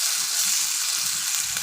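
Masala for a dry fish and egg thokku frying in oil in a pan, a steady, close, hissing sizzle with no talking.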